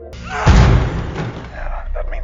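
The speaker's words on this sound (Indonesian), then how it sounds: "Mike terus menghantam pintu unit mereka dari luar" A person pounds on an apartment door from outside, producing one heavy, booming thud that rings out loudly and then fades into a muffled rumble.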